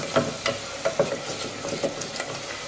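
Stirring and sautéing in sunflower oil in a pan over medium flame, with a steady soft sizzle and a series of scraping, clattering spoon strokes at an uneven rhythm, close and alone.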